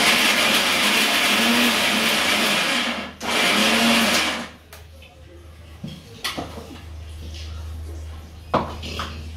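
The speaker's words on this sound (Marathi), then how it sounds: "मी जरा जाडसर कूट करून घेते मिक्सरमध्ये" A mixer grinder coarsely grinds chillies for thalipeeth with a loud, whirring roar that pauses briefly, starts again, then stops. Quieter kitchen clatter and small knocks follow.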